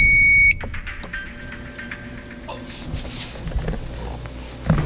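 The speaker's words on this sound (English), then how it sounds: "The alarm's just silenced." A car dealership security alarm sounds in a loud electronic tone that cuts off abruptly, leaving quieter indoor noise with scattered clicks and faint shuffling.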